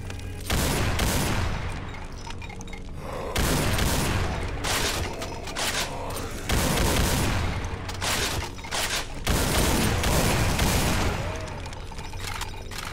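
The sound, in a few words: machine gun fire in a video game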